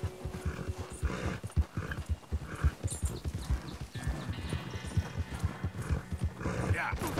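A horse's hooves clip-clop in a quick, uneven rhythm close by, with people talking over the steps.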